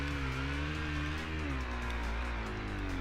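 Motorcycle engine in a Supermoto racing video game, revving steadily at high pitch with shifting harmonics as it climbs through the gears, continuous and loud.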